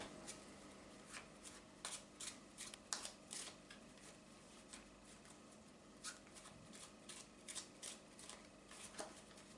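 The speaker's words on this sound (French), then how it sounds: "je vais te demander de mélanger le jeu, encore une fois" Deck of playing cards shuffled by hand in repeated riffling bursts, crisp and close, with short pauses between passes and no talking.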